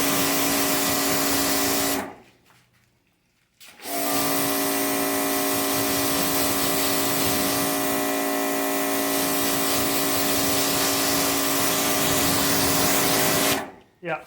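An Adams 2.0 pressure washer runs with a loud, steady spray hiss and motor whine. It cuts out abruptly for about two seconds, restarts, then shuts off again near the end.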